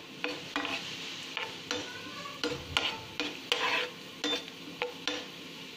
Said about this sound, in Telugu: నేతిలో వేయించుకున్నాం కదా